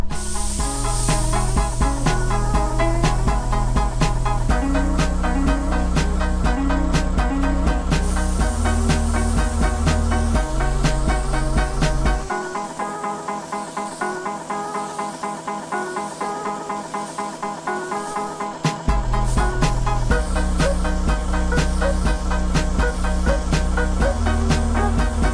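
A spray gun hisses loudly as it lays a lacquer sanding sealer coat on a table, in sustained bursts with a quieter, lighter spray in the middle before full spraying resumes.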